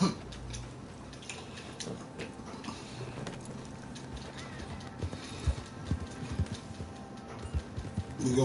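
Horse hooves clip-clop in a steady, uneven rhythm under a mix of background sound and music, moderately close, with no clear voices.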